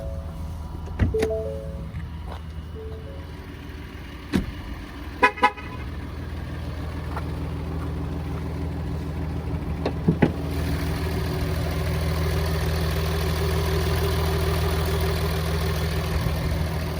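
A 2021 Ford F-150 with the 3.0 PowerStroke diesel idles with a steady low rumble and a faint diesel rattle, while a few clicks and horn toots sound early on and the engine grows slightly louder and fuller near the end.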